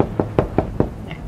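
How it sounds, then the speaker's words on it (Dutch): Someone raps on a door in the evening: four quick, evenly spaced knocks, close and sharp, with nothing else heard around them. "En toen werd er geklopt s'avonds aan de deur."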